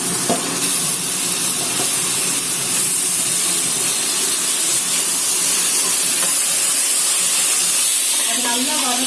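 Four tomatoes with mint fry in a pan for tomato biryani, giving a loud, steady sizzle and hiss of frying with faint stirring throughout, close by.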